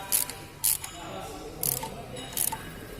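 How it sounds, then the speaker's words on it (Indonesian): A ratchet socket wrench with a 10 mm socket tightens bolts on a four-cylinder diesel engine, clicking in four short, sharp bursts over a steady background hum. "kemudian kita kencangkan menggunakan kunci ratchet soket 10"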